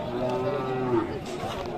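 A cow lows in a long, drawn-out moo at a busy Friday village cattle market, close and loud over a bustling crowd background.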